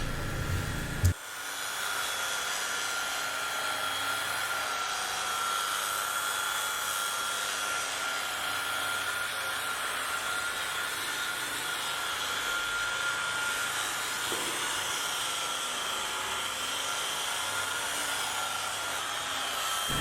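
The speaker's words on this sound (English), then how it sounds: "Now I've gone over this panel twice with the woolen pad and the compound" A buffing machine with a woolen pad polishes compound into car paint, a continuous loud whirring drone that starts abruptly and holds steady throughout with no talking.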